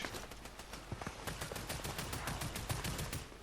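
Gunfire in the video game Fortnite: rapid bursts of sharp shots in quick succession, fairly faint and steady through the clip, with no talk over it.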